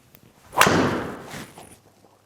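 A golf ball struck with a club during a launch monitor test, a single sharp impact followed by a brief airy tail, close and fairly loud, with no talk.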